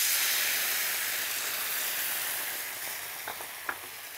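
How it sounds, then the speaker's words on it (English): Steady sizzling hiss of white wine bubbling and reducing in a pan of chorizo and tomato sauce, close and continuous, fading slightly toward the end with a couple of brief spoon clicks. "just allow that wine to bubble away and reduce by 1/3"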